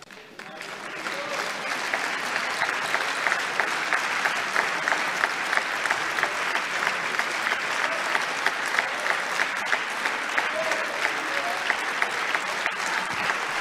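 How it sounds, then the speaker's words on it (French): Long, sustained applause from deputies in the French National Assembly chamber, a large crowd clapping in a dense, even roar that swells in and holds for over ten seconds with rhythmic pulses. "Longue salve d'applaudissements, y compris sur les bancs du Front National"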